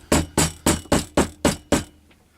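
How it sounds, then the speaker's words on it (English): A hammer striking metal while making a training slip lead for gundogs, six sharp evenly spaced blows close up, followed by a quiet pause. "I don't know if I hit that with a hammer."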